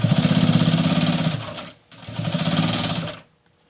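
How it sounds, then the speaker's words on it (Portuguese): A sewing machine runs a straight seam along the lining of a triangular patchwork pouch near the zipper, with a loud, rapid mechanical whirr in two long bursts separated by a short pause. "O meu eu já vou costurar reto aqui, porque já tenho mais facilidade."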